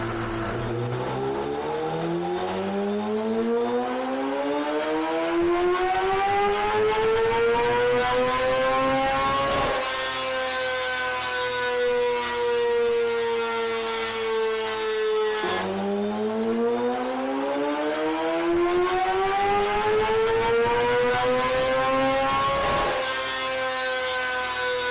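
Honda CBR600 race bike engine on a dyno, revving up through two full power runs toward 16,700 RPM, a loud, rising high-pitched howl that climbs steadily, drops briefly, then climbs again.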